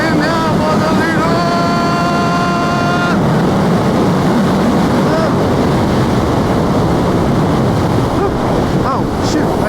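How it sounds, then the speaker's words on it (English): Heavy, constant wind roar buffets the microphone while riding a Yamaha FZ-10 (MT-10) motorcycle into the wind, drowning nearly everything, with a voice speaking briefly under it and a steady engine tone present early on. "We're going right into the wind now, Bozzolino!"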